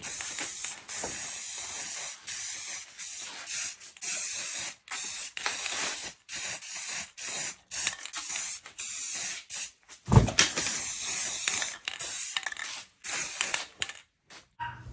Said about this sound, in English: Make sure you're not breathing in spray paint fumes.